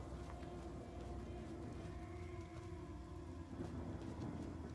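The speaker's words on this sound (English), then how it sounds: "Then, Jehan, if you'd be so kind as to set the thing on rain." Steady rain pours down in the Divinity Original Sin fantasy game after a rain spell is cast, a constant dense hiss with low rumbling underneath, continuous and fairly loud throughout with no talking.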